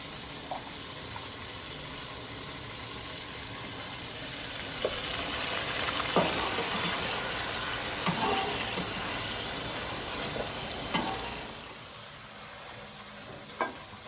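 Gosht (meat) frying in a pan in a village kitchen, a steady sizzle that swells louder midway, with occasional stirring clinks and scrapes.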